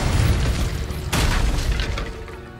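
Fiery Incendio spell blast in Hogwarts Legacy: a sudden bright burst erupts over a loud low rumble of game action and fades over about a second, no talk.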